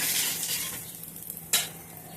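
A Maharashtrian thalipeeth flatbread fries on a pan with a soft, steady sizzle, broken by one brief sharp scrape as it is turned over.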